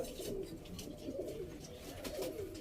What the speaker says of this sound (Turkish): kendi kuşlarımdan falan da şöyle mesela birkaç göstereyim size abi